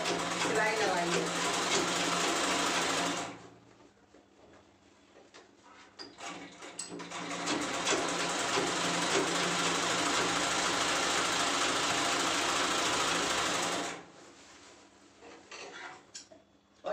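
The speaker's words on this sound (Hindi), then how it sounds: "दोनों दोनों पॉकेटों में हमने सिलाई लगाई है।" An electric sewing machine stitches the side pockets of a travel bag, running steadily in two long loud stretches separated by a quieter pause, with a person talking throughout.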